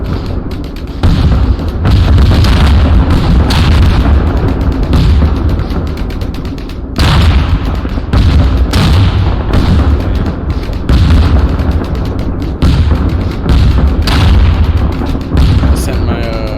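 Repeated heavy booms of ATVs exploding in the video game Arma Antistasi, several loud blasts in irregular succession with rumbling tails, while someone talks over the gameplay.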